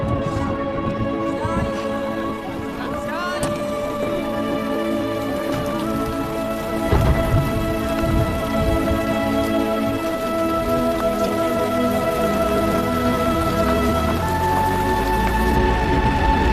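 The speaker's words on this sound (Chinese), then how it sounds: "这下雨了，那吴大队站那儿不是要淋个透心凉吗？" Steady rain falls on a surface through a period drama scene, a continuous patter of drops under sustained tonal music, with no clear talk over it.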